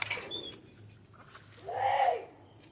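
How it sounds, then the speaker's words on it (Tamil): A pigeon gives a soft, low coo near the end, inside an old building. It comes over a faint background hum, with a brief rustle at the start. "இது புறா மாப்பிள்ள"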